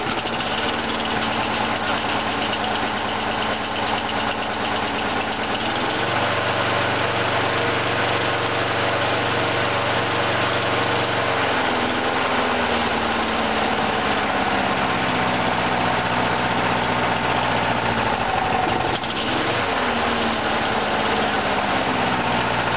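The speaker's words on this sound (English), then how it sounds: "She doesn't idle well until it warms up." A cold engine idles unevenly just after a choke-assisted start, running steady and loud with rough, knocking pulses and shifts in pitch as it settles, with no talking over it.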